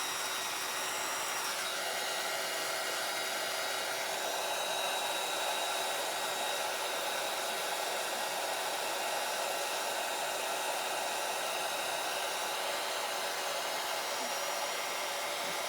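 An electric embossing heat tool blows a constant, loud, even whoosh while drying glue on a small star-shaped craft embellishment, running unbroken the whole time with no talk.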